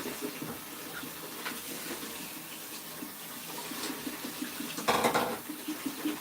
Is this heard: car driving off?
no